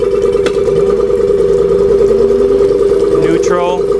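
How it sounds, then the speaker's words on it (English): A 2006 Suzuki 25hp four-stroke tiller outboard motor runs at idle, a loud steady hum with a pitch that drifts slightly, and brief mechanical clatter as it is handled. "Here I'm going to fire up the motor."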